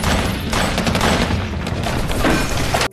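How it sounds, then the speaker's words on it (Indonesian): Dense, loud gunfire crackles in rapid bursts, mixed with booming blasts, continuous and chaotic throughout. "Terjadilah baku tembak di antara kedua kubu."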